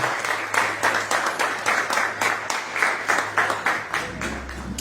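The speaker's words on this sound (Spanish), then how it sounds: "Dale un fuerte aplauso a Jesús" A church congregation claps for Jesus during a service, steady rhythmic group clapping close by, joined by a low sustained organ or keyboard tone underneath.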